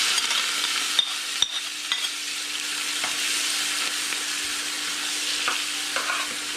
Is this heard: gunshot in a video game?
no